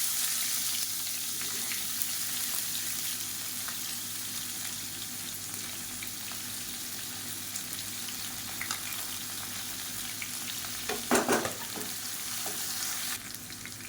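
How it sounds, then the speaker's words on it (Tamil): Two large onions, sliced lengthwise, go into oil where mustard seeds and cumin are already popping, for a tomato-free chutney. A steady, close sizzle runs throughout, with a brief clatter of stirring near the end. "இப்போ மீடியம் சைஸாக 2 பெரிய வெங்காயம் நீளமாக நறுக்கினதை சேர்த்துக்கலாம்."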